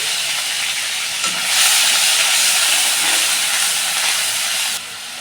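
Onion paste and ginger garlic paste hit hot oil with whole garam masala, a loud, close, continuous sizzling hiss that jumps up as the paste goes in and drops off sharply near the end.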